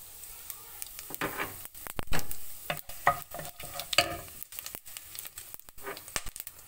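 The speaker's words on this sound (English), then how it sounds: "To this oil I am adding half a teaspoon of fennel seeds, 2 cardamom, 4 cloves, 1 small piece of cinnamon and 1 star." Fennel seeds, cardamom, cloves and cinnamon sizzling and crackling in hot oil for biryani, close up, with scattered pops and stirring scrapes. The bursts are irregular and there is no talking.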